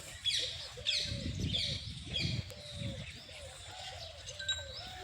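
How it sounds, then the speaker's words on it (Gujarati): Birds chirp and call from nearby with low pigeon cooing underneath, a steady outdoor chorus at a temple with no talking. "પંખી નટાણે અવાજ કરે થી મસ્ત ઠંડુ વાતાવરણ"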